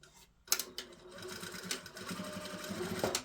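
Sewing machine stitching a trouser waistband, its motor starting after a brief pause and running in a steady rapid whir with small bursts of needle clatter, close and fairly quiet.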